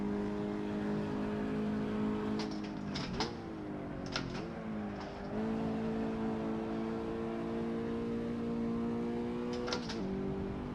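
A race car of about 1,200 kg revs hard onto a track straight, its loud steady engine drone holding high with brief dips at gear changes around the middle and near the end.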